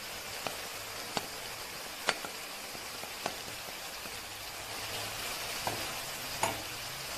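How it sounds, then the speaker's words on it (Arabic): Chopped onion frying in a pan for Syrian bulgur kibbeh, a soft steady sizzle with scattered sharp crackles and pops throughout, fairly quiet and without talk. "بعدين بنضيف البصل. هلا بنضيف البصل."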